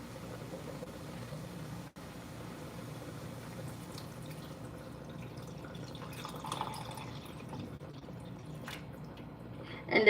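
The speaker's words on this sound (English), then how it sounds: "And then I'm gonna add 1 cup of water." A cup of water poured into a sauce in a home kitchen, heard as a faint, steady trickle with light drips and splashes over about ten seconds, ending with a small clunk.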